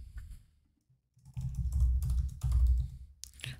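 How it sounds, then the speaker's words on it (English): Code being typed on a computer keyboard, a quick flurry of close key clicks and thumps in two short bursts after a brief pause, with no talk over it. "I'm going to type in a little log function"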